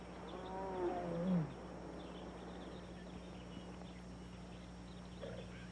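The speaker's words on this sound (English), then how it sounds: "you must get rid of this tiger" A tiger in an old feature film gives a single deep, rising growl-roar near the start, followed by a long stretch of quiet background hum with faint clopping sounds.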